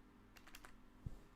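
A few quick, faint keystrokes on a computer keyboard, soft clicks in a short burst followed by a single louder tap, heard alone without talk.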